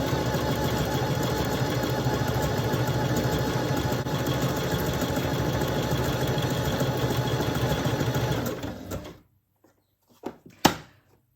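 A computerized sewing machine stitches through paper with a steady close mechanical whirr and rapid needle chatter that runs for several seconds, then stops abruptly, leaving a few faint clicks and knocks afterward.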